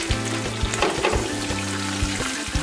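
Karimeen (pearl spot fish) frying in a pan gives a loud, close, continuous sizzle and crackle, with a low rhythmic hum pulsing underneath and no voices.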